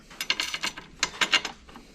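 Nuts being fitted and tightened on a motorcycle side rack for a Forza 350 carrying Shad 23 side boxes: close, quick ratcheting clicks in short irregular bursts.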